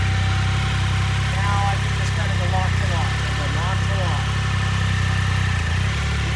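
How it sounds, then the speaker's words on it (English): A steady motorcycle engine idle rumbles low with a constant whirring cooling fan on top, while someone talks over it. "Probably hear the fan on the motorcycle, not a big deal."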